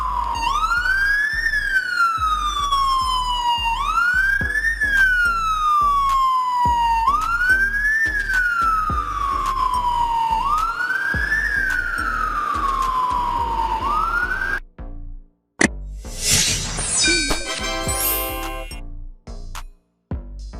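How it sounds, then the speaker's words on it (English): A motorcycle ambulance siren wails, rising and falling in repeated sweeps, loud and close, then cuts out into a burst of sharp electronic yelps and short warbling tones. "This is motorcycle ambulance."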